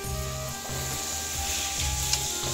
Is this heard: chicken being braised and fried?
yes